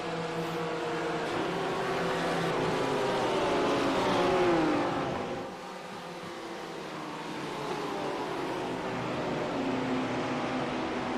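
Field of GT3 race cars roaring off at the start of a sim race at Road Atlanta, a dense layered engine drone rising and falling as the pack accelerates, with no talk over it.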